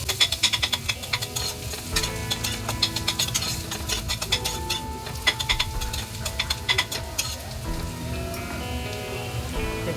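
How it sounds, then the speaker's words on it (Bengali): Carrots sauté in a pan for fried rice, giving a steady crackling sizzle with rapid stirring and scraping ticks throughout, close and even in level, with no talking. "দু 3 মিনিট সটে করে নেব গাজরটাকে।"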